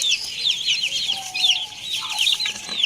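Chickens cluck and chatter in a steady, busy stream, several birds close by, with a few sharper calls rising above the flock.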